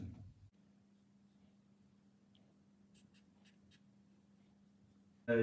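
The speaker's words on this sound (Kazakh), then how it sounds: "енді келесі сөз жазамын мен енді" Words being written by hand with a pen on paper, a faint, close scratching over a quiet steady hum.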